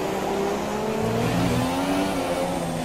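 Formula 1 cars from the F1 2017 video game racing at night in Bahrain, engines droning loud and steady with rising and falling pitch as two cars run close together down the straight, with no talk over them.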